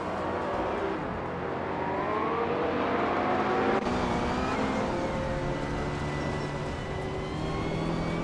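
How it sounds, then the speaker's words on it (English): Several 1980s street cars, a Lamborghini Countach LP5000 QV leading, race around the Algarve circuit in a racing game, with engines droning and revving loudly and continuously, one gear shift partway through. "race is underway at Algarve, and leading the pack in those flashy 1980 street cars is Brando Buster, with his 1985 Lamborghini"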